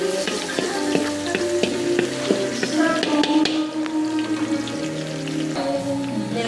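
Garlic sizzles and crackles in hot cooking oil while being stirred, with a steady frying hiss under sharp taps of a utensil against the pan, close and fairly loud with no talking.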